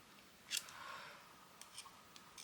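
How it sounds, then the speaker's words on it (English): Scissors snip off a small bit of material in a single quiet cut, followed by a few faint clicks and rustles of handling nearby. "just snip that little bit off"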